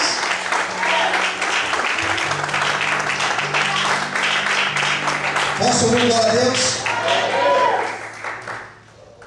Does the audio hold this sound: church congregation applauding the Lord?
yes